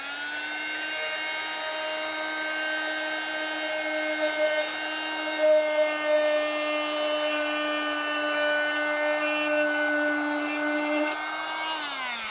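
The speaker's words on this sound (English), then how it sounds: "it's basically like taking a scraper, but it does it automatically" A powered paint removal tool strips paint from the metal control panel of a Millipede arcade cabinet, giving a steady, loud, high whine with strong harmonic overtones that holds for about eleven seconds before dropping off at the end.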